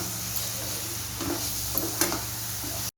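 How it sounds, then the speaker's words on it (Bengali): Fried potatoes being stirred into a Bengali katla fish curry in a pan, a soft steady sizzle with a few faint scraping stirs over a constant hum. "এবার আমি ভাজা আলু দিয়ে দিলাম। দিয়ে এবার আমি নাড়িয়ে দেব।"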